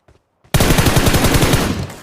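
Automatic gunfire in the mobile battle royale game PUBG Mobile erupts after a moment of near silence, a loud rapid burst of shots that runs without pause to the end.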